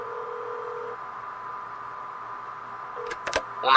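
Telephone dialing tones for a call to the 190 emergency line play as a steady tone that switches pitch, then a short burst of rapid DTMF key beeps near the end, clear and close.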